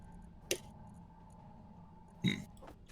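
Short burp in a Space Engineers game session, heard as a single low, brief guttural sound near the end and preceded by a sharp click, faint against a quiet background hum, with no talking.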